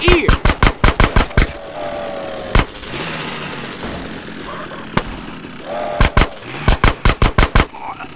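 Bursts of video game gunfire in GTA San Andreas: rapid automatic volleys at start and end, single loud shots in between, close and punchy over a rumbling ambient bed, with a voice briefly present.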